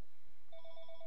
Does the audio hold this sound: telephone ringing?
yes